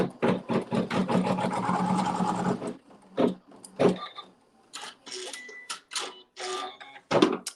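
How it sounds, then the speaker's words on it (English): A sewing machine runs in a steady rapid burst for nearly three seconds while stitching a fabric seam for a log cabin quilt block, then gives several shorter separated runs with pauses between them. "Machine stitches a seam."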